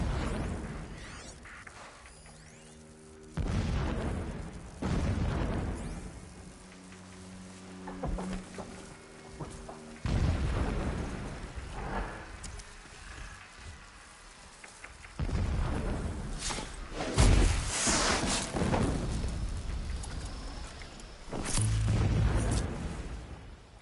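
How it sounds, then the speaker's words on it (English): Distant explosions rumble in Horizon Zero Dawn Remastered, a series of deep booming bursts spread across the stretch, some heavier than others, over a low game ambience with a faint musical tone. "Explosions in the distance."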